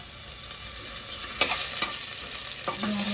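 Ginger-garlic paste frying in a tempering of seasoning in oil for Karnataka-style vangibath, a continuous close sizzle broken by a few sharp stirring scrapes.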